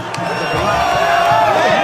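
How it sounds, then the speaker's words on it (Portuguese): A large crowd of CSA football supporters roars and chants at the São Bernardo stadium, loud and sustained across the whole moment with many voices blended together. "Torcida marcando presença lá no estádio do São Bernardo, bastante torcedores do CSA"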